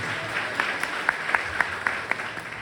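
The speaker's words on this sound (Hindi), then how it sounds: "एक जोरदार ताली परमेश्वर को दो" A church congregation applauds loudly for God during a worship service, a steady wash of many hands with a few sharper individual claps poking through, sustained and fairly close.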